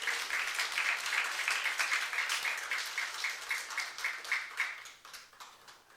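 A church congregation at a youth worship service applauds in rhythmic, evenly spaced clapping that stays moderately loud, then gradually fades toward the end, with no voices over it.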